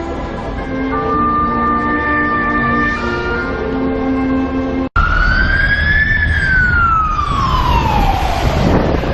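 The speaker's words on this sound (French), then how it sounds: "les pompiers australiens." An Australian fire engine siren passing in the street, loud and close, first holding steady wailing tones, then after a brief break sweeping up and down in a long rising-and-falling wail.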